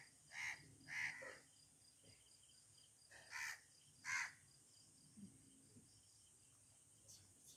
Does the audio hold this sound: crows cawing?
yes